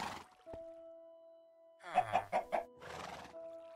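A Minecraft chicken clucks a few quick times near the middle, over steady, sustained in-game tones, with no voices.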